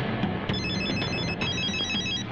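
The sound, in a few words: telephone ringing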